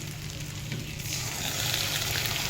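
Pointed gourd cooks with poppy seed and peanut paste in a pan, giving a soft, steady sizzle and frying hiss that swells a little toward the end, with no talking.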